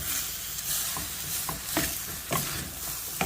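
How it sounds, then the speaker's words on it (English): Vegetables sauté and sizzle in a hot pan for a lima beans and rice dinner, with a steady frying hiss broken by repeated scraping stirs of a utensil, close and continuous. "And just saute these until they're just about tender."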